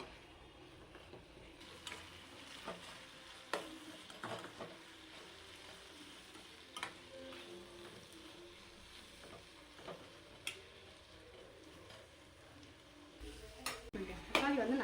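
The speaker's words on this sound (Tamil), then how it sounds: "இப்போ தக்காளி நல்லா வேகட்டும்." Tomatoes cook in a pan with a faint, low sizzle, interrupted by scattered clicks and clinks of a spoon against the pan, quiet and sparse over a long stretch, with louder clatter near the end.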